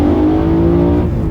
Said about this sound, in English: I have the valves closed on the exhaust so that you can really get the induction noise to sing